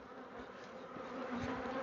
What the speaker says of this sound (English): I like keeping bees, and I'd recommend keeping bees.